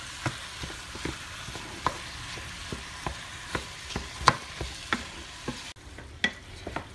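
Ground beef and onions for shepherd's pie sizzle quietly in a pan, broken by sharp scraping clicks as a utensil stirs them every half second or so, with no talk.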